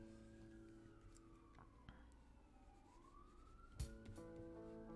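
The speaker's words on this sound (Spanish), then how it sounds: "Y ahora ambulancias de fondo." Ambulance sirens wail faintly in the distant background, rising and falling slowly through a steady low hum, with a brief knock partway through.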